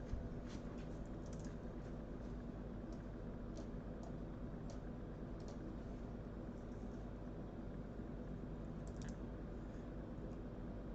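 Faint, sparse keystrokes tap on a computer keyboard during a coding session, a few scattered clicks over a steady low electrical hum, with no speech.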